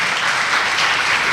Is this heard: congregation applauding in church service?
yes